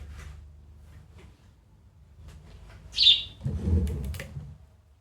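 A pet bird gives a brief high chirp indoors, close and fairly clear, followed by soft rustling and fluttering thumps in a quiet room.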